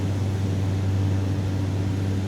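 Aircraft engine in a flight simulator just after takeoff, a loud, steady low droning hum with constant broadband noise, alone without talk.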